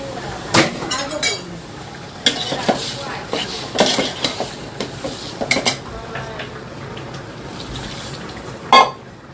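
Snake gourd tipped into a pan of sautéed fish curry made with kalibaus fish: scattered clanks and clinks of a utensil against the pan, a few louder knocks, close by, with a voice faintly in the background.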